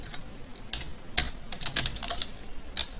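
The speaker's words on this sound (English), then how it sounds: "Oh my god, can I not type?" Fast, close typing on a computer keyboard, with irregular bursts of crisp key clicks over about three seconds and no voices.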